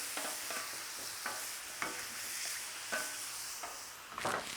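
Philly cheesesteak meat sizzling on a hot griddle, a steady hiss broken by scraping strokes as the meat is stirred and flipped, up close with no voices.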